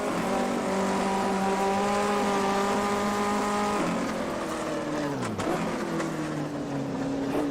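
Several vintage 1958 Formula 1 engines in a racing video game at Silverstone, loud steady droning tones that shift pitch as gears change, with a brief dip and rising rev midway.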